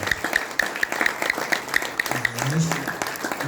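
A church congregation claps together during a pastor's sermon, a quick, even rhythm of handclaps that stays moderately loud across the whole stretch.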